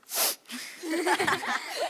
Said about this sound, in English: Can you do your sneeze one more time?